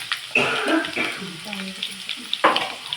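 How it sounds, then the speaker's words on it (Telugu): Chopped onions with cumin and mustard seeds hitting hot oil for an eggplant curry, with a sharp sizzling burst and crackle, quick stirring scrapes, and a second sizzle surge near the end; close and fairly loud. "ఆయిల్ హీట్ అయిన తర్వాత కట్ చేసి పెట్టుకున్న ఆనియన్స్ వేయాలి"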